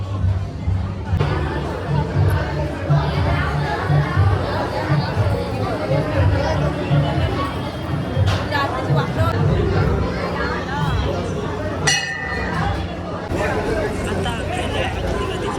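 A dense crowd fills a village temple fair, a jatra at Kalher, with continuous loud chatter and babble and close voices talking throughout.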